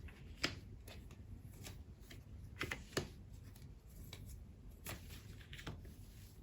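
Tarot cards drawn and shuffled by hand for a love reading, giving soft papery flicks and snaps at irregular intervals over a faint steady room hiss, with no talking.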